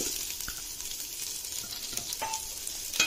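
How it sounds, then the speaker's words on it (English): Onions and ginger sautéing in melted butter for pumpkin soup, a soft, continuous sizzle with a few light clinks and stirring scrapes. "Now that the butter is melted, I'm adding onions. And also some ginger."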